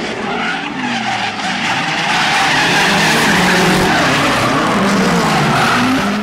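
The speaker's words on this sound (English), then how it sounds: "Overtaking while drifting." Drift cars skid through a tandem, their tires squealing loudly and continuously over engine roar, the shriek rising and holding near the end.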